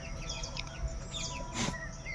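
Chickens in a cage give short, faint clucks and chirpy calls scattered over a low background hum, with one slightly louder squawk near the end.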